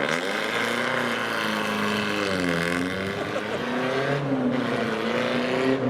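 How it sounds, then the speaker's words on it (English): A loud Mazda B220 pickup with a stacked exhaust in the bed revs and pulls away from a car meet, its exhaust note rising and falling through several gear changes, with a brief lull before climbing again. "next to depart, we've got this Mazda B220"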